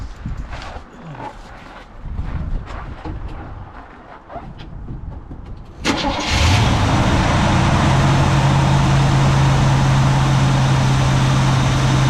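An old carbureted car engine with an electric choke cold-starts in minus 30 cold, first cranking in uneven bursts, then catching and settling into a loud, steady, high fast idle close by.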